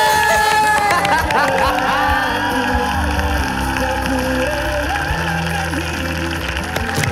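An audience applauds at The Voice All Stars singing competition, a steady, rain-like patter of clapping mixed with crowd noise, voices and tonal music throughout.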